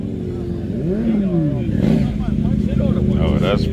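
A KTM motorcycle engine revs at a bike night, rising and falling in pitch through several quick throttle blips, loud and close, with people talking over it.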